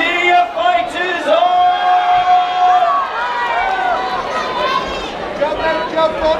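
A white collar boxing crowd in Leeds shouts and cheers for the fighters in the ring, a loud busy roar of voices with an announcer's voice riding over it.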